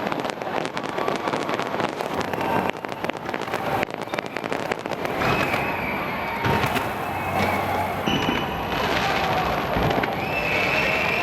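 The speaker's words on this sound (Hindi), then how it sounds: "स्काई टावर पर आतिशबाजी से तकरीब का आगाज किया गया" New Year fireworks burst over Auckland's Sky Tower in a dense, continuous barrage of loud crackles and booming pops, with wind rumbling against the microphone and no one talking.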